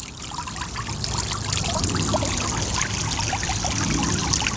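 Water from a small 10-watt solar-powered pump pours and splashes into an outdoor basin, a continuous trickling, bubbling stream heard close and fairly loud throughout with no talking.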